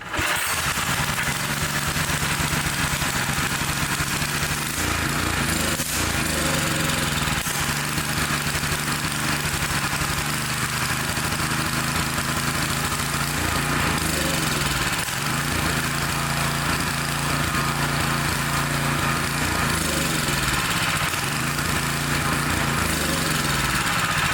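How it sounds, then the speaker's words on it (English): A small engine running on choke while fed stale fuel runs roughly and unevenly for the whole stretch, its pitch surging and sagging as it struggles to hold speed, loud and close. "It'll run on choke, but it just won't run with the choke on."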